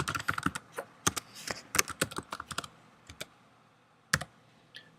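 Keystrokes on a computer keyboard as a username is entered, a quick run of close, crisp clicks with short pauses, then a few isolated taps near the end.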